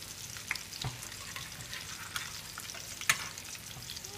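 Chicken patties fry in a pan over a low flame with a soft, steady sizzle and crackle, a few sharper pops and one clink of a utensil standing out.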